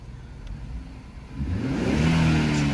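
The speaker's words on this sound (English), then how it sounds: "let me do a little exhaust note and let me see if you could hear it now" A 2016 Infiniti Q50S with turbos and a Race Chip engine management upgrade revs up from a quiet idle, its engine note climbing and swelling loud with a rising whoosh.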